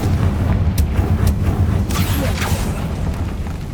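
Bombarda explosion spell cast in Hogwarts Legacy, a loud continuous booming rumble with a few sharp bursts layered over dense low-end roar, no talking.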